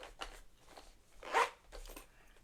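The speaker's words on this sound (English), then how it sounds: "zip her up." A Longchamp One cosmetics bag packed full of makeup is zipped shut, making a steady run of zipper rasps with one louder pull in the middle, heard up close.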